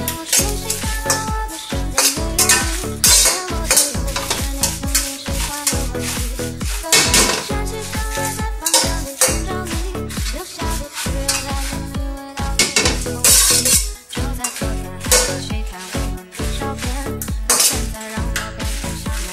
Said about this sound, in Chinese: 锅子烧热，把辣椒炒干